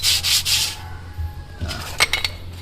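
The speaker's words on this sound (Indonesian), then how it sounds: "Kita amplas, kita bersihkan." A Toyota Avanza car part is sanded by hand, with two long rasping strokes up front followed by several shorter, sharper scrapes, close and distinct with no voices.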